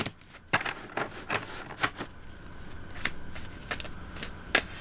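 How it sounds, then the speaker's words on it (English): Tarot cards are shuffled close up in a quiet room, giving a run of soft riffling flicks and irregular papery snaps over several seconds. "I'm going to pull one for here and one for there too of these cards"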